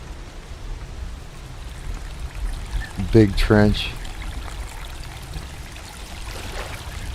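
Water in a video game rushes and trickles in a steady, continuous wash, with a brief spoken remark rising over it midway.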